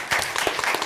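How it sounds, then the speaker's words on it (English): An audience claps for the panelists at a conference side event on sustainable water and sanitation, giving a short burst of close, dense clapping. "Let's give all our panelists a round of applause."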